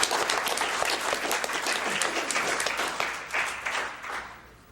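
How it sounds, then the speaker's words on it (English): A workshop crowd applauds Liberty Christian school, a dense burst of many hands clapping at close range that stays strong for a few seconds before thinning out. "So can we give them a round of applause right now for Liberty Christian?"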